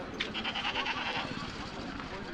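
Goats bleat among a dense crowd at the Mecheri goat market in Salem district, a wavering bleat rising over constant murmur of people talking and bustling market noise.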